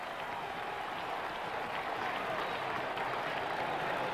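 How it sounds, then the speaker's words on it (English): An arena crowd applauds steadily after a close Knicks versus Washington Bullets basketball game, with a dense, even roar of clapping and cheering that holds at one level throughout. "The crowd reacts as the Knicks and the Bullets head back to their locker room."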